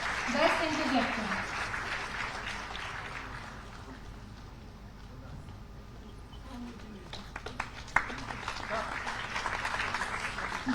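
Audience applause at a memorial debate competition prize announcement: a moderate crowd clapping, stronger at the start, thinning in the middle, then swelling again near the end.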